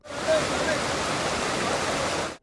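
A flooded stream pours over railway tracks in a loud, steady broadband rush of churning water, close and continuous for a couple of seconds before cutting off.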